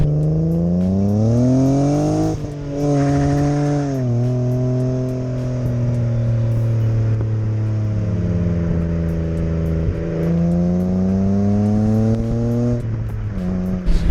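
A BMW E30 four-door with a swapped 2.5-litre M50 straight-six revs loudly and steadily up through the gears, its smooth droning tone rising, dropping at each shift, then climbing again.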